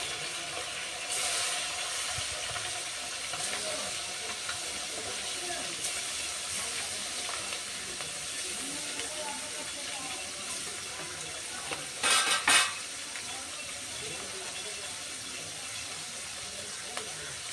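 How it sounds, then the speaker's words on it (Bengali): Amudi fish frying in a pan gives a steady, moderate sizzle and hiss that runs throughout, with a brief louder crackling burst near the end. "এবার আমি আমুদি মাছগুলো ভেজে নেব।"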